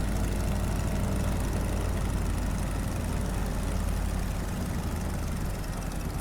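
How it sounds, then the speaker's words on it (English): A Stearman PT-17 biplane's radial engine throttled back near idle, a steady loud rumbling drone with broadband wind noise that stays continuous and close throughout, easing slightly near the end. "Bring that power back almost to idle."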